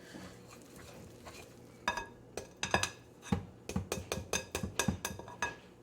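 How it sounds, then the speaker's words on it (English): Chocolate pudding batter being stirred slowly by hand with milk in a bowl, a run of close clinks and scrapes of the utensil against the dish in an irregular rhythm, growing busier toward the end. "I'm going to mix everything slowly."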